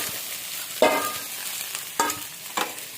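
Mixed ingredients going into hot oil together in a home kitchen pan, giving a steady low sizzle with a few sharp scraping stirs and clinks standing out, close and alone with no talk.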